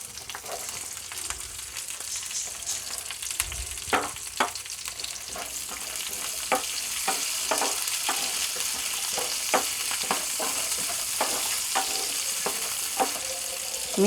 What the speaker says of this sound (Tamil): இந்த சின்ன வெங்காயத்தையும் இது கூட சேர்த்துடலாம். இது வந்து நம்ம வதக்கிட்டு அரைக்க போகிறோம்.